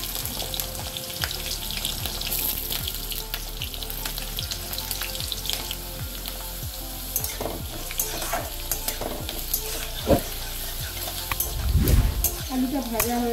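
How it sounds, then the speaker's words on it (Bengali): Small diced potatoes sizzle steadily in hot oil in a pan for a Bengali thor posto, with frequent scraping stirs and clinks of the spatula throughout and a louder clatter near the end; no one speaks. "আলুটা ভাজা হয়ে গেছে, হালকাই ভাজবো, খুব বেশি না।"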